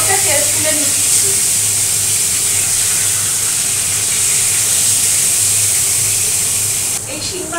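Shing fish frying in hot oil in a home kitchen, a steady loud sizzle and hiss running throughout, briefly dropping near the end as the pieces are lifted out.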